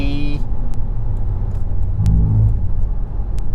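A car on the road from Riga to Tartu pulls out to overtake another vehicle, its steady engine rumble swelling briefly midway as it accelerates past, with a voice heard over the drive.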